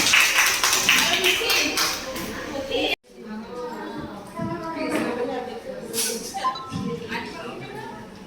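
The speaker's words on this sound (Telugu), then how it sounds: "అందరూ క్లాప్స్ కొడదాం." Audience at a church women's Sunday celebration clapping loudly and steadily for several seconds, the applause cutting off abruptly, followed by a person speaking over lighter scattered taps and shuffling.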